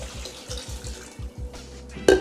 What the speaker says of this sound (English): Next, we're gonna add in our 4 cups of water.